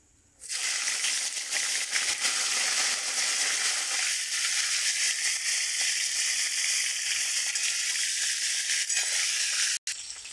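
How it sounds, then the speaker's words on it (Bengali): Cauliflower pieces frying in hot oil after fish, a loud steady sizzle running continuously for about ten seconds, close and unbroken apart from a brief drop near the end. "ওই তেলে ফুলকপিগুলো ভেজে নেব।"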